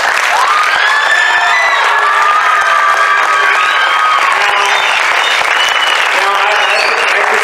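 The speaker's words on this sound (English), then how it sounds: "So please give these guys a huge round of applause." A large audience at a high school band concert applauds loudly and continuously throughout, a dense wash of clapping with some cheering and shouting mixed in.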